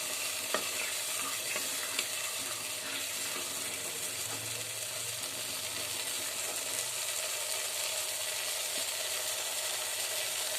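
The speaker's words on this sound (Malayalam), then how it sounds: "ഇപ്പോൾ നമ്മൾ ഇതിലേക്ക് മീൻ കഷ്ണങ്ങൾ ഇട്ട് കൊടുത്തിട്ടുണ്ട്" Fish pieces going into a simmering tamarind mackerel curry, giving a steady soft bubbling and sizzle from the pot, with faint stirring and a few small clinks over a constant low hiss.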